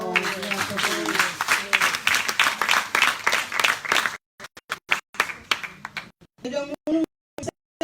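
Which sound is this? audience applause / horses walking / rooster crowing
audience applause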